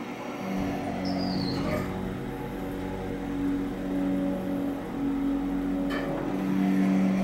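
A 40-year-old elevator car ascending, with a steady low mechanical hum and tonal whine, small clicks and a faint squeak, running continuously at close range without talk.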